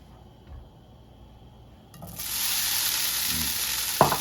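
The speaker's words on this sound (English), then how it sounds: "We're just gonna brown up our slices to give it a little bit more texture" Slices of chicken sausage hit hot avocado oil and break into a loud, steady sizzle after a quiet start, with a couple of soft scraping knocks from stirring.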